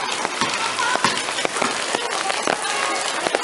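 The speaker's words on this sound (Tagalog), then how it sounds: "Lagi umuulan dito." Heavy rain falling steadily around a house during the rainy season, a dense continuous hiss with scattered patters and splashes; a voice may be faintly present.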